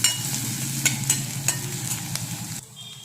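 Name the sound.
onion, garlic, mustard seeds and cumin frying in a pan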